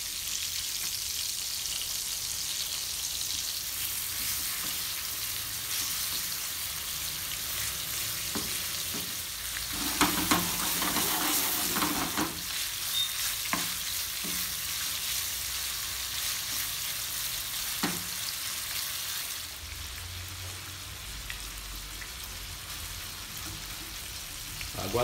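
Shrimp frying in a pan with a steady, close sizzle throughout, broken by a few clinks and stirring knocks midway and a muffled thump near the end.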